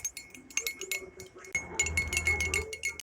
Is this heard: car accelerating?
no